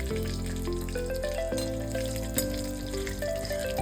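Whole spices, including triphal, frying in hot oil for a prawn curry, a steady close sizzle under continuous background music.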